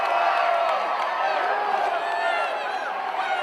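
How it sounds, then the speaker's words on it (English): A wrestling crowd at a Great North Wrestling show in Hawkesbury keeps up a loud, continuous roar for tables, with a commentator's voice running over the top. "The crowd now chanting for tables."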